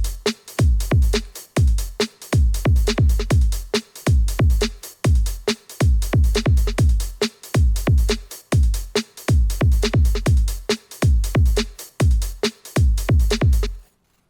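A steady electronic drum beat with punchy kicks, crisp hi-hats and layered percussion looping in a tight, even rhythm, loud and with no voices.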